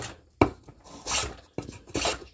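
A hand plane shaves and rounds a mulberry wood carving hammer, making several short, close, scraping strokes, each a rasping whoosh with quiet pauses between.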